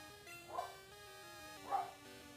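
Dogs bark at a neighbouring house, two distant yaps rising faintly above a steady musical background.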